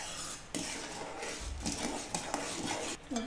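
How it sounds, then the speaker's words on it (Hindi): A spoon stirs sugar into lemon pickle in a bowl, producing steady close clinking and scraping against the bowl with a few sharper knocks and no talking. "अब इसमें 1 कटोरी शक्कर डाल देंगे हम, और हिला कर मिक्स कर देंगे।"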